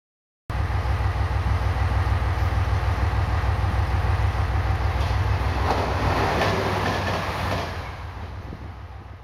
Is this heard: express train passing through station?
yes